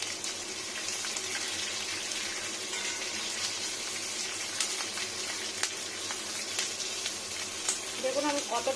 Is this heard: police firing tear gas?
no